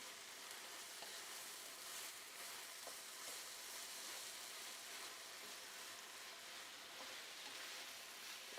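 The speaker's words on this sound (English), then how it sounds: "give that a stir" Food stirred in a hot pan with tomatoes, a steady sizzle and faint scraping running continuously at low level, with no talking.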